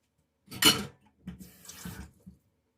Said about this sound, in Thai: ใสรเครื่องแล้วรับกนคนเติมน้ำจักหน่อย